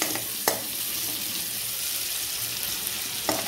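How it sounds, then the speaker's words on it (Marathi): Onions sizzle steadily in a pan for paneer matar pulao, a soft continuous frying hiss with a couple of sharp clinks of a spoon stirring. "कांदा थोडा ब्राऊन गोल्डन ब्राऊन होईपर्यंत आपल्याला शिजू द्यायचं आहे"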